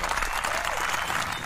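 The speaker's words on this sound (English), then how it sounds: "And the crowd goes wild!" A dense wash of crowd applause and cheering, steady and loud through the whole stretch with no breaks, a broad roar of many clapping hands and voices.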